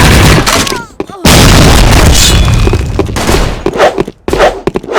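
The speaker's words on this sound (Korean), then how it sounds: "수류탄 이렇게 던지 겁니다" A grenade goes off in the Sudden Attack shooter game, a loud blast with gunfire bursts around it and short silent gaps between, close and harsh.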